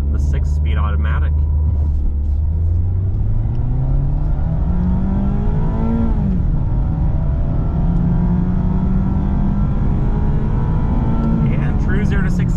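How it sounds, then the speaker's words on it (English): A 2023 Mazda MX-5 Miata RF with a 6-speed automatic, in sport mode with traction control off, brake-revs and then launches, its engine note climbing steadily through the gears at close range with a brief dip at a shift. "We are in sport mode, traction control is off, and we're gonna brake rev the 6-speed automatic."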